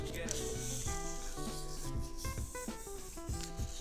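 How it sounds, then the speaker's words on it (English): Sandpaper is rubbed along a sword's blade shaft in close, rhythmic strokes, a soft scratchy rasping that repeats and swells with each pass, while a quiet melody plays underneath. "So let me run my sandpaper down the blade shaft."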